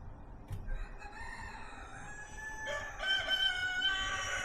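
Rooster in a chicken coop area crows loudly and close, starting with a softer drawn-out call and finishing with a stronger, higher cock-a-doodle-doo, with no talking.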